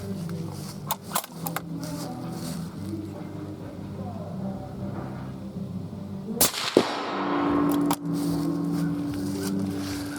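A close, sharp rifle shot from a .280 AI rifle fired off a tripod outdoors at a target under 100 yards, one loud crack followed by a brief decaying echo, with faint low background hum before and after.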